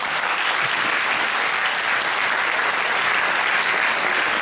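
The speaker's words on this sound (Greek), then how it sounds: "Σήμερα χειροκροτούμε την προσπάθεια" Audience applause fills the hall after a Christmas children's play staged by the theatre group of the Holy Metropolis of Trikki and Stagoi; steady, dense clapping from many hands continues unbroken throughout.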